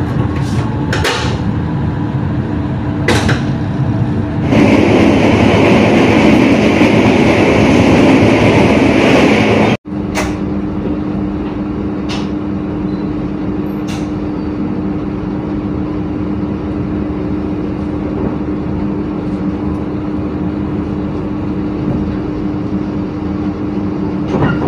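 The KA Jaka Tingkir passenger train runs at night between Wates and Kutoarjo, heard from inside the carriage as a steady low rumble. Sharp clanks break in now and then, and a louder, harsher roar lasts for a few seconds before ending in a sudden cut.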